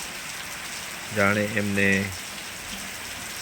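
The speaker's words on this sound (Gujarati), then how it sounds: "આપણને પણ ગમી જાય એ રીતના વરસાદ વરસી રહ્યો છે." Steady rain falling outdoors, a constant hiss throughout, with a brief spoken phrase over it partway through.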